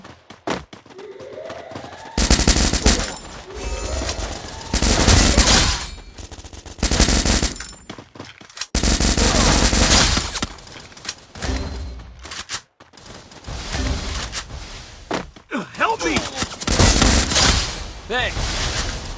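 Bursts of rapid automatic gunfire from a video game, loud and dense, separated by short pauses, with voices talking over parts of it.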